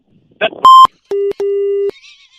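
Electronic telephone tones follow a hang-up: a short burst, then a high beep, then two longer steady mid-pitched tones with a brief gap between them, loud and close, with no talking.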